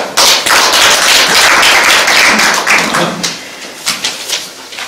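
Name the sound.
audience applause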